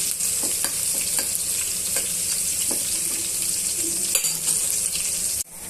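Sliced onions and green chillies fry in a pan, a steady close sizzle broken by the repeated scrape and clack of a stirring spoon. No one speaks.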